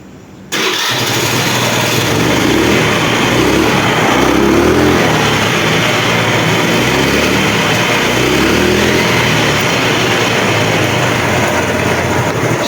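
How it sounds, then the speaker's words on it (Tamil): A two-wheeler or small vehicle engine cranks and catches at once after a quiet start, then settles into a steady, close, loud idle that runs on alone with no talk. "நம்ம வந்து வண்டி ஸ்டார்ட் பண்ணி பார்க்கலாம் ஸ்டார்ட் ஆகுதான்னு சொல்லி."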